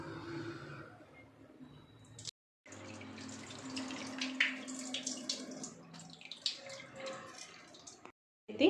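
Karuppu kavuni black rice being washed by hand in water, with sloshing, swishing and dripping splashes in steady bursts, broken by a brief pause and close, moderately loud throughout.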